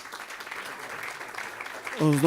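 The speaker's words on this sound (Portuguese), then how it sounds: "vamos aplaudir o Guta do Pandeiro." Audience applause at a choro music celebration, a steady spread of clapping for a pandeiro player that runs under the whole clip before a voice breaks in near the end.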